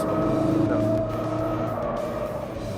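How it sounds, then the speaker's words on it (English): A 2016 Ford Focus RS drifting, its engine droning steadily loud and close with a sustained tire-squeal tone running throughout and no talk. "This vehicle is very easy to drift."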